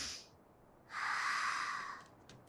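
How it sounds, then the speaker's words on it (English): A cartoon character doing a breathing exercise: a short exhale at the start, then a long, soft, hissing breath in or out, quiet and close, with no talking. "She's doing the breathing exercise that they learned at Stevani from Garnet"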